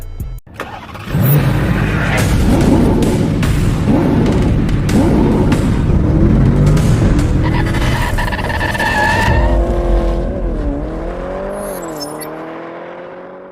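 A Hyundai Palisade hybrid SUV drives past with a steady loud engine and tire roar, broadband road noise swelling and holding, then a rising and falling whine as it pulls away toward the end.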